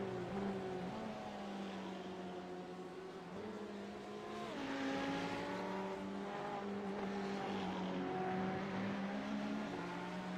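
A Ferrari GT3 race car engine on a circuit drones steadily at high revs, its pitch dipping through a shift then climbing again as it passes, moderately distant with no talking over it.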